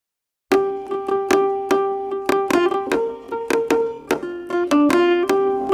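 A Yoruba percussion pattern from the ATLAS sample instrument by Rast Sound, sharp pitched hits repeating in a quick, fairly even rhythm, loud and close with no voices.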